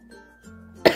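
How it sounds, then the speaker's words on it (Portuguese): A single sharp cough from a woman during a sewing craft session, short and close near the end of a mostly quiet stretch. "Desculpa, que eu tô muito com tosse."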